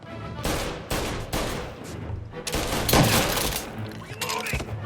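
Sustained gunfire in the video game Mafia: Definitive Edition, loud volleys of overlapping shots and heavy reports in several bursts with brief gaps, a dense shootout throughout.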